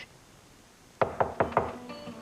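After a second of quiet room tone, four sharp knocks rap on a door in quick, slightly uneven succession, close and solid, with no voices.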